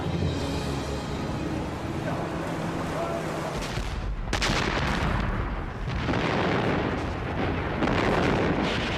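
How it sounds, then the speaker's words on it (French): German artillery guns firing at the 1944 Anzio landing: loud, heavy booms and rumbling blasts follow one another, with a sharp burst midway and continuous battle noise under them. "Mais les canons allemands sont là."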